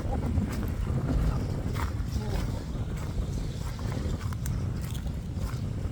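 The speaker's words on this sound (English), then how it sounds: "I bet all my microphone will be picking up right now is wind." Gusty wind buffets the microphone on a kayak outing on a cloudy, sunny day in sub-freezing temperatures, a steady low rumble with soft water sounds beneath it throughout.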